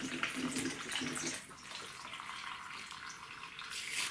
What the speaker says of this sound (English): You can probably hear the water flowing.